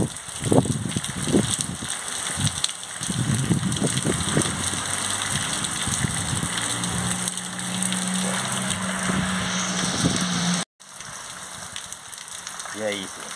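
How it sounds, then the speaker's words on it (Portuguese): Heavy night rain pours in the sertão near Irecê, Bahia, a dense continuous hiss with wind, while someone talks over it close by; the rush cuts out briefly near the end. "Muita chuva aqui de onde eu estou aqui, está vendo aí, olha a intensidade dessa chuva"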